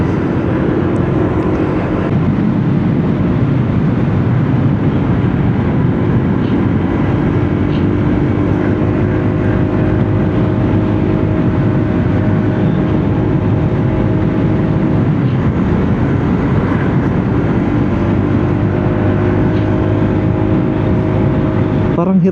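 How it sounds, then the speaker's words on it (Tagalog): A Honda Giorno scooter engine drones loudly and continuously as it labors on a ride toward Kaybiang Tunnel, a steady hum with a shifting pitch under heavy rushing wind noise. "Parang hirap yung makina."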